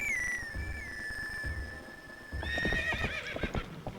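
Horse neighs in The Legend of Zelda: Twilight Princess after a horse-call reed is played: a long sustained whistle-like reed tone followed by a loud whinny and clip-clop hoofbeats.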